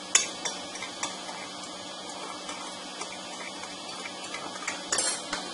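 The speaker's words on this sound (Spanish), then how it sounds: "En este plato vamos a mezclar azúcar y canela." Sugar and cinnamon being mixed together on a plate, with a utensil making light scraping clinks and taps against the dish, quiet and close, with sharper knocks near the end.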